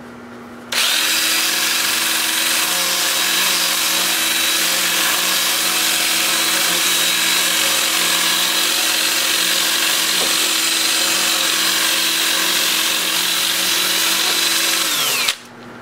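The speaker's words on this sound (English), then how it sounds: "I'll do my 2-inch disc starting at 80 grit and working up through 400 on all of the turned parts" A 2-inch, 80-grit sanding disc spins against turned wood parts, a loud, continuous whining drone that starts suddenly, holds for about fifteen seconds and then cuts off, with no speech.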